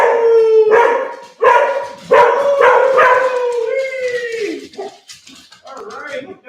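A dog howls in several long rising and falling tones with short breaks between them, loud and close, ending in softer whimpering sounds.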